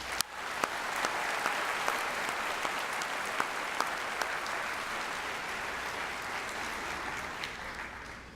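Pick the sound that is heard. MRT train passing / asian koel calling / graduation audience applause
graduation audience applause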